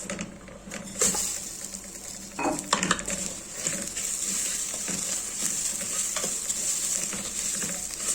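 Rice being stirred in a pot for koshari, with continuous scraping and clinking of a spoon against metal over a steady background hiss, louder bursts of stirring near the start.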